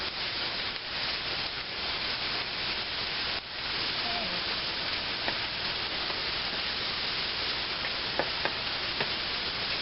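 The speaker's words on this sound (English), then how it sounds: "I'm going to put this in a skillet" Chopped thick-cut bacon fries in a skillet, giving a dense, even sizzle that holds steady throughout, with faint spatters and a few light pan knocks, no voices.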